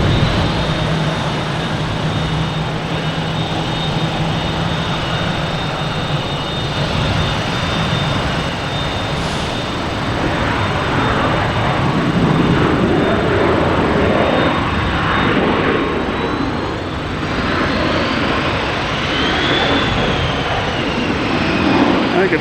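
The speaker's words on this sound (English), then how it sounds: "Alaskan Airlines coming in from San Diego, 737" An Alaska Airlines Boeing 737 MAX 9 arriving at Boston Logan from San Diego makes a loud, continuous jet roar that swells and shifts slightly in pitch over about twenty seconds.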